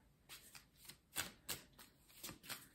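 Tarot cards being shuffled and laid out on a table, a series of quiet, crisp riffling and slapping bursts in an irregular rhythm, close up with no talking.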